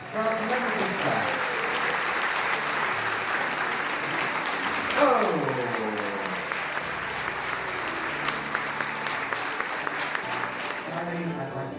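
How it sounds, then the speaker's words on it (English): Applause from cruise ship passengers for the staff aboard P&O's MV Oriana, a steady crowd clapping that continues for the full length with some speech mixed in. "Applause for our celebrity staff."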